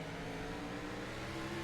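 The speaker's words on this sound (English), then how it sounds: "squeezes the throttle, accelerates his way up towards turn number 3 and 4" A NASCAR Cup Series car in the iRacing sim racing game at Watkins Glen International drones at steady high revs, a constant engine tone throughout with no voices.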